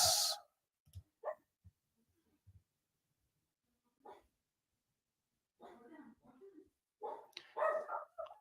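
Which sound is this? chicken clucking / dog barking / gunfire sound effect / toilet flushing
dog barking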